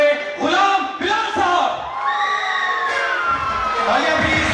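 A crowd at a stage prize show cheers and shouts loudly in swelling bursts, with whoops and raised voices carrying over the hall for several seconds.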